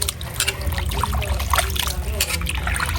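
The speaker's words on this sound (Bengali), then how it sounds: "এখন ধোয়া হচ্ছে" Cut meat being rinsed by hand with water, a steady trickling and splashing throughout, with people talking over it during preparation of a rice-ceremony meal for orphans.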